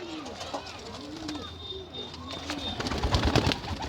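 Malwai pigeons coo in a loft, soft repeated rolling coos near the start, with rustling and someone talking in the background and louder shuffling noise toward the end.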